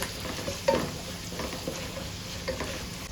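Chicken and spice powder sizzle steadily in a hot pan while a utensil stirs and scrapes now and then, close up, with no voices.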